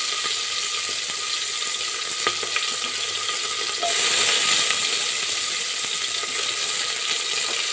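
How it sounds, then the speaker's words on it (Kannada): Onion frying in a pan for mushroom masala gives a continuous, loud sizzle with occasional ticks, and it swells briefly louder midway. "ಈರುಳ್ಳಿ ಹಾಕೋತಾ ಇದ್ದೀನಿ."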